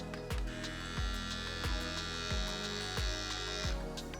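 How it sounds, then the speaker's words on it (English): An electric hair trimmer runs with a steady buzzing hum, fairly quiet, with faint rhythmic clicks recurring about every two-thirds of a second. "this is a bit more quieter compared to the other trimmer itself"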